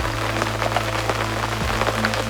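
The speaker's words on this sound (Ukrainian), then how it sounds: "І дощ пішов." Rain beginning to fall at a carp-fishing lake in Ukraine, a dense patter of drops on surfaces over a steady low hum, with no one speaking.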